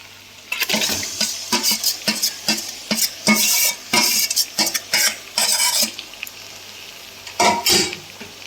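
Marinated chicken with black pepper is tipped into a hot pan for a Bengali chatpata chicken and stirred, with repeated close metal spoon scrapes and clatters over a sizzle in irregular bursts.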